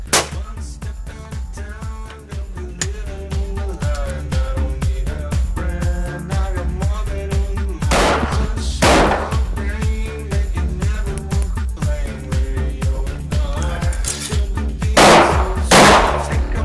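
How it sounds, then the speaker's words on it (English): Primers fire without powder or bullet in a .50 caliber CVA Accura V2 muzzleloader, giving a few sharp, loud pops in two pairs over steady background music. "we're going to fire a couple primers without powder or bullet to ensure that we have cleaned out any oils that might be left in the breech area"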